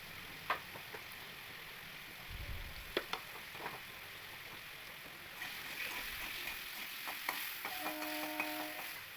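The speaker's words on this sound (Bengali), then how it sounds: "আলুগুলো দিয়ে আমি এতে সামান্য একটু লবণ আর হলুদ গুঁড়ো দিয়ে আলুটাকে খুব ভালো করে ভেজে নেব" Potatoes frying in mustard oil seasoned with salt and turmeric, a steady soft sizzle with scattered crackles and occasional stirring scrapes, close and fairly quiet, no talking.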